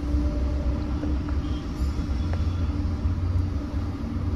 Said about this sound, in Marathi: गाडी पेट्रोलवरती स्टार्ट झालेली आहे।